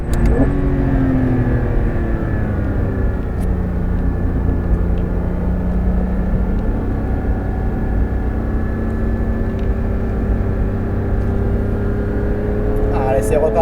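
Porsche 911 GT3 RS engine on the Nogaro race circuit, heard from inside as a loud, sustained drone whose pitch sweeps down and then climbs steadily as the car accelerates, with a flick of higher revs near the end.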